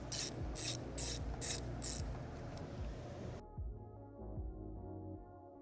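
Hand ratchet undoing 10 mm bolts on the top intake manifold of a Cadillac ATS-V 3.6L twin-turbo V6 (LF4), giving rapid close clicking strokes in bursts, with no talk.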